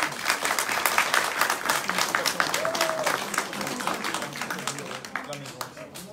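An audience applauds Giovanni at a live gathering, a sustained, dense patter of many hands clapping throughout, with voices murmuring underneath.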